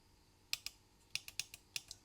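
Typing on the keyboard of a Nixdorf LK-3000 personal computer: sharp, crisp key clicks in small irregular bursts, close up and quiet against a faint hum.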